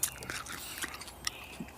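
Someone chews a sprig of fresh parsley outdoors in a garden, giving faint, close crunching bites at irregular intervals.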